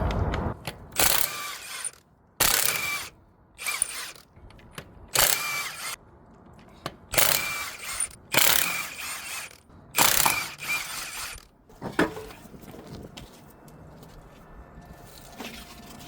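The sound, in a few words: ratchet with 21 socket removing Nissan Pathfinder wheel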